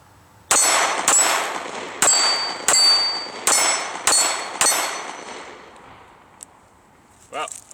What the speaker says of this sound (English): put a few rounds on steel, at least attempt to